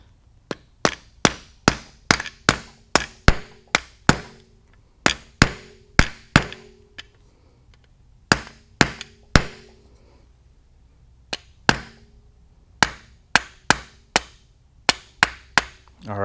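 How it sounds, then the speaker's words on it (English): A hammer strikes a socket to drive a part into an FMF Turbine Core 2 muffler fitted to a Montesa 315r, loud, sharp metallic blows in quick clusters separated by short pauses. "If I can't pound this in, we'll take it over to the press and try to press it in that way."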